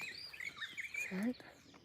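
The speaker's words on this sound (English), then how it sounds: "You can hear the birds." Birds chirp in open fields, a few thin, high tweets and short trills heard faintly outdoors, with a brief low voice near the end.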